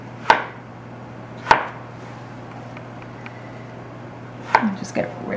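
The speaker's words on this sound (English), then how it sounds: "just slice it to the thickness that you like" A kitchen knife slices through potatoes on a cutting board for non-traditional fish and chips, giving two sharp, isolated chops followed by a small cluster of quicker cuts near the end, close and clear over a quiet low hum.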